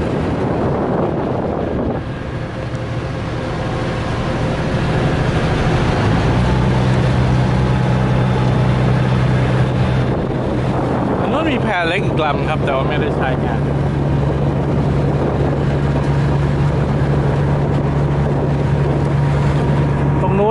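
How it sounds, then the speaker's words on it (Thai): A ferry raft's engine drones steadily as it departs across Songkhla Lake, a loud continuous low rumble with wind buffeting the microphone and someone talking over it throughout. "เรือออกแล้วครับ"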